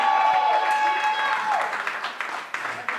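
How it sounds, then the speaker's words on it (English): A comedy club crowd claps during a headliner stand-up set, a short burst of dense applause with whoops mixed in that thins out toward the end. "Another round of applause."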